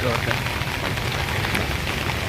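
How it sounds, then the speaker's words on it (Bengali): Continuous rain falls steadily after a long dry spell, making a dense, even wash of patter that fills the short stretch while a person speaks over it. "আজকে তো বেশ খানিকক্ষণ ধরে বৃষ্টি চলছে"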